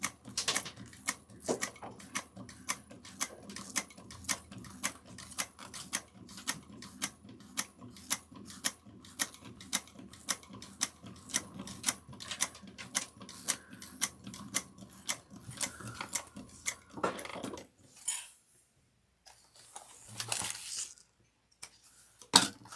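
A sewing machine stitching a seam on a train case, its needle clicking in quick regular bursts for a long stretch, then pausing with a few scattered handling clicks near the end.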